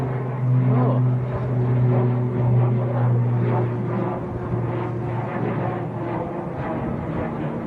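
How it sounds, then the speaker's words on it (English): An Aer Lingus airliner takes off at Manchester Airport in windy weather, its engines giving a loud, sustained roar with a steady tonal hum that slowly fades over several seconds. "Aer Lingus getting airborne"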